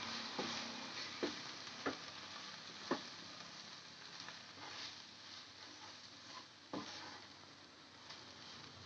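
Garam masala and turmeric stirred into frying oil, a faint steady sizzle with soft spoon scrapes and clicks against the pan at irregular intervals.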